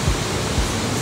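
Waterfall rushing in the Porcupine Mountains of Michigan's Upper Peninsula, a loud, steady broadband roar of falling water close by with no voices.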